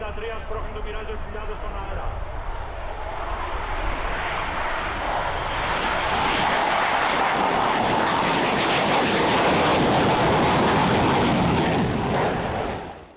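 A Mirage 2000 fighter jet roars past, its engine noise building from a steady rumble to a loud, broad jet blast before cutting off abruptly, with voices talking underneath.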